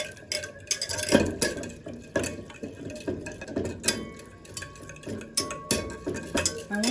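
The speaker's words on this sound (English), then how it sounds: "I want to stir the butter and the milk together." A utensil repeatedly scraping and clinking against a pot or bowl while butter and milk are stirred together, making a steady, rhythmic series of close taps and swishes with no talking.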